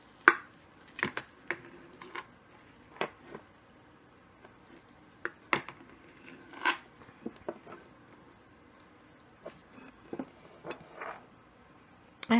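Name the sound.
knife cutting a slice of no-bake vegan cranberry apple chocolate dessert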